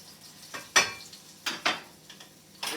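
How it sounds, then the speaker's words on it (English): Cajun hot water cornbread frying in a pan gives a soft sizzle beneath several sharp, irregular clinks and scrapes of a utensil against the pan, up close. "as you can see now, it's starting to sizzle up a little bit"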